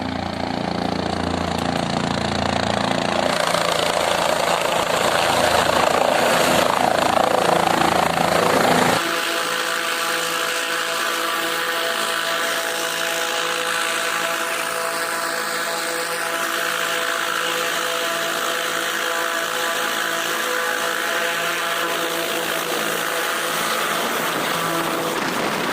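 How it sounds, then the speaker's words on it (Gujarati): A helicopter flies in over a mountain pilgrimage route, its loud rotor and engine roar filling the air, then settling into a steady whine that holds for about twenty seconds. "પટકાર જાય હેલિકોપ્ટર આવે."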